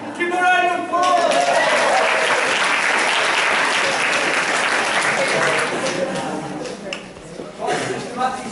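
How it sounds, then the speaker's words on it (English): A teachers' meetup audience applauds in a room, a full burst of clapping that swells quickly and holds for several seconds before thinning out, with a few voices and light laughter coming in near the end. "Give a round of applause."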